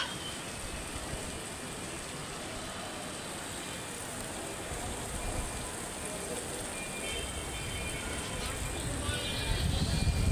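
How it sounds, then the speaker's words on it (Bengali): Heavy rain pours down under a darkened sky as a steady, dense wash of noise, holding even throughout and swelling slightly louder near the end. "এখন কিন্তু খুব জোরে নামছে বৃষ্টি, আকাশ এমন পরিমাণ অন্ধকার হয়েছে।"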